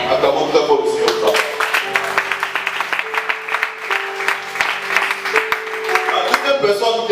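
Church congregation clapping in steady rhythm with acclaiming voices and sung tones, a dense sustained wash of many hands throughout.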